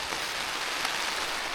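Steady, dense rain hisses down on the fabric of a NYO-EVA Fjord 60C tent, an even broadband patter with no pauses, heard close from inside.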